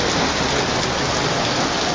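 Heavy rain during an ice-rain downpour, a loud, dense, unbroken roar of drops hammering a surface, close and steady with no voices.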